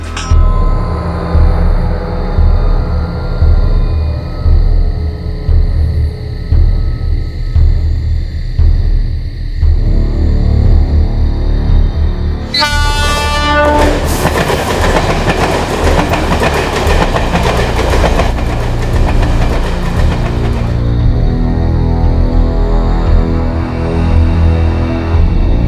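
A train moves through a rail yard at night, a loud continuous rumble with clickety-clack of wheels, a brief horn-like tonal burst partway through, then heavier rolling noise before easing.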